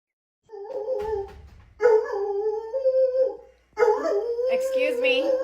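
A dog howls outdoors in bitter cold of about minus 30, with long wavering howls close by in three drawn-out bursts separated by short pauses.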